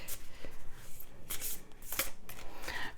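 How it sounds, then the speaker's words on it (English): Tarot cards being pulled and slid from a deck, quick papery shuffling and flicking rustles in short bursts, close up with no talking. "I'm going to pull 2 cards from this deck"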